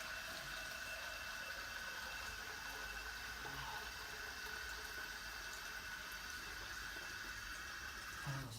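Water running steadily during Islamic ablution (wudu): a continuous, even rush of flowing water, moderately quiet and unbroken throughout, with no speech.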